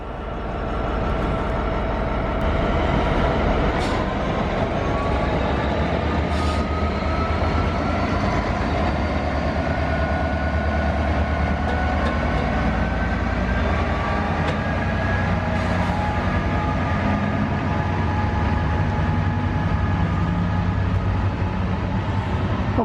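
A freight train runs through a station platform without stopping. Its loud, continuous rumble and rail clatter fill the whole stretch, close by and steady, with squealing wheel tones drifting over the roar.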